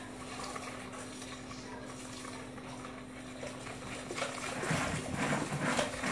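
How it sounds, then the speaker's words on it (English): A utensil stirs a yeast mixture into Amish friendship bread starter in a bowl, giving soft, steady scraping that turns louder and clinkier near the end, with no voices. "And now we're going to add in the yeast mixture. We're going to mix that around."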